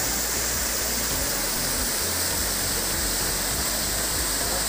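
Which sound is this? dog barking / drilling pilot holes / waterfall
waterfall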